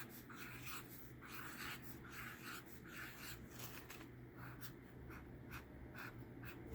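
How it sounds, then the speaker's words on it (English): Pen strokes scratch across a sheet of paper in steady, close bursts of rubbing and scribbling, continuous for several seconds with no talking. "let me draw it on a piece of paper right here off to the side."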